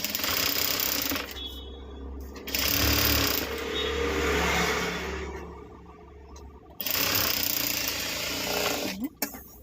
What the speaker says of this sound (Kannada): ಈ ರೀತಿ ಸ್ಟಿಚ್ ಮಾಡ್ಕೋಬೇಕು.